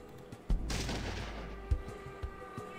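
A single loud gunshot from the Fallout 1 video game booms out with a heavy low thump, followed by a lingering rumble and a few smaller thuds, with no talking.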